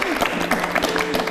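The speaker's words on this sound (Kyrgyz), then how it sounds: "кол чабуулар болсун Гүлнар айым" Audience applause in a Kyrgyz TV studio talk show: a brief burst of clapping from a seated crowd, fairly close and even, with a voice speaking over it.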